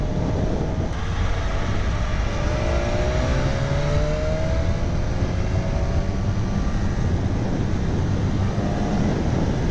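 Sport motorcycle, either a BMW S1000RR or a Ducati Panigale V4S, cruising on a four-lane highway, with steady engine drone and heavy wind roar that stay loud and close throughout.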